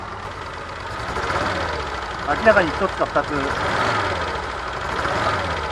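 An Alpine V6 Turbo engine, long abandoned, idles unevenly with a few knocking pulses from suspected stuck injectors, while someone talks over it.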